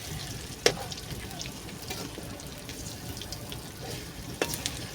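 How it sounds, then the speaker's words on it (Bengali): Dolla pitha fries gently in a pan over a low flame, giving a soft steady sizzle with a couple of brief clinks, fairly quiet and without voices. "লো ফ্লেমে আস্তে আস্তে করে ভাজবেন,"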